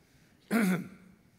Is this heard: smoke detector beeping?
no